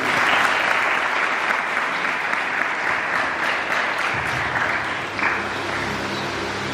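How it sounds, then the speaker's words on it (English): Applause from an audience at a school event about nature conservation: a dense, steady wash of many hands clapping that keeps going for several seconds and eases slightly toward the end. "Let us welcome him with a huge round of applause."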